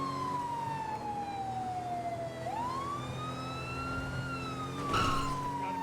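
A police siren wails during a roleplay pursuit in a video game, sweeping steadily up and down in pitch. It sounds loud and continuous for the whole stretch, with a brief burst of extra noise near the end and no talking.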